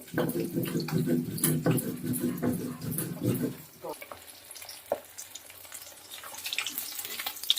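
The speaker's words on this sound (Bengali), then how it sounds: "মাছগুলো হালকা লাল লাল করে ভাজা হয়ে গেছে।" Fish fry in hot oil for a home-style summer fish curry, giving a loud, dense, crackling sizzle for nearly four seconds before it drops to quieter scattered pops and light kitchen clatter.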